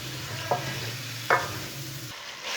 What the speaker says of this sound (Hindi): अच्छी तरह मिक्स करके इसे भी 2 मिनट तक भून लेंगे